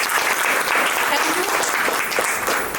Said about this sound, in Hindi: एक बार बिंदु मैम के लिए जोरदार तालियां होनी चाहिए